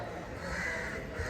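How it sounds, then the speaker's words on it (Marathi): Crows caw faintly in the distance outside the Shri Gajanan Maharaj temple at Shegaon on a crowded evening, over a steady murmur of ambient noise. "कावळे आले."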